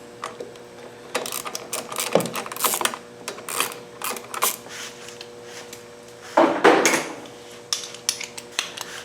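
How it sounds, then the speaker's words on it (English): Socket wrench loosening 10mm nuts on the air cleaner housing of a Kohler XT675 lawnmower engine, giving close, irregular metallic clicks, taps and clatter of tool and parts, with no talk. "let's start by removing these two 10mm nuts, 10mm socket that hold this air cleaner housing on it."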